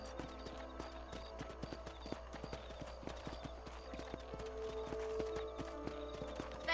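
Steady clip-clop of horse hooves trotting, with a brief whinny midway, over low ambient background in the video game Red Dead Redemption.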